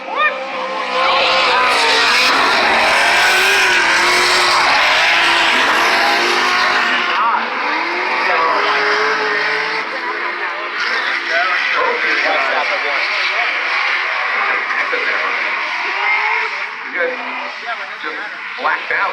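Drift cars at a Formula Drift event in St. Louis roar as they slide, with engines screaming and tires squealing loud and close while a commentator talks over the action.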